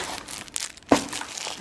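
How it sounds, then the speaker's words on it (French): Plastic sleeves crinkle and crackle close by in a short handling burst, with one sharper crunch near the middle over faint room noise. "J'ai repris pas mal de pochettes en plastique"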